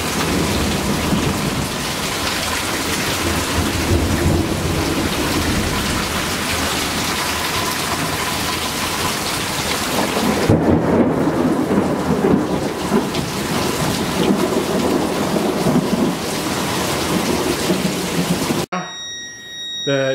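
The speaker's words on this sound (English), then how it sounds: "Crazy storm now." Heavy rain pounds steadily through a storm in Pensacola, with low rolling thunder building midway and the downpour staying loud and constant throughout.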